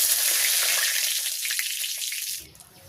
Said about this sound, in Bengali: আমি এখন এই তেলের ভিতরে মশলাটা কষাই নেব। তো দিয়ে দিচ্ছি তেজপাতা